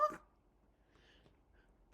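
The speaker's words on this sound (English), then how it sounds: "Bark, bark, woof, bark." One short, sharp dog bark sounds close at the very start, then fades into faint, quiet background noise.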